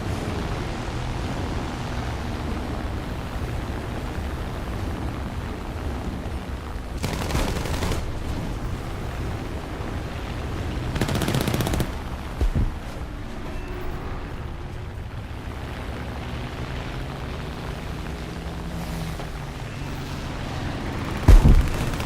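Aircraft machine gun fire in War Thunder air arcade, a steady low rumbling of gunfire running throughout with a few louder bursts and a sharp crack near the end, heard alone with no talk.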